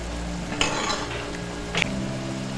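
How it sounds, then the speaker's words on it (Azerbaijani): Umac halva roasts in a pan with a soft continuous sizzle, broken by two sharp clinks of a utensil scraping and knocking against the pan. "Artıq gördüyünüz kimi halva tam qaynara düşüb"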